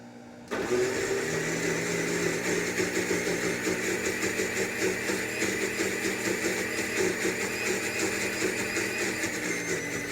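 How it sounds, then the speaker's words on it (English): A microwave oven switches on and hums steadily, close by, with a faint pulsing rattle under the drone and no talking. "Pop that in the microwave, and we're just going to go for 30 seconds."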